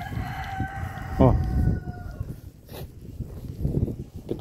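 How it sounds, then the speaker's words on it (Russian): A rooster crows in a residential courtyard with chickens, one clear crow near the middle, with ambient yard noise and a person talking around it. "Петух там орёт."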